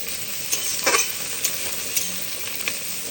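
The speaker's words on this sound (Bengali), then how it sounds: "তো ফ্রাইড রাইস করার জন্য দেখো এখানে হচ্ছে গিয়ে গাজর, বিনস, মটরশুঁটি, কাজু, কিশমিশ, তারপরে হচ্ছে গিয়ে সুইট কর্ন সব কিন্তু ভেজে নিচ্ছি।" Carrots, beans, peas, cashews, raisins and sweet corn fry for fried rice, a steady sizzle with scattered scraping stir strokes of a spatula in the pan, close and moderately loud, no talking.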